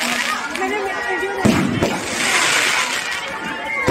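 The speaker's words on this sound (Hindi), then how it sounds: "बहुत ही सुंदर आतिशबाजी हमारी रामलीला कमेटी की" Crackling fireworks bursts and pops at close range at a Dussehra fair Ramlila, loud and continuous, with a voice talking over them.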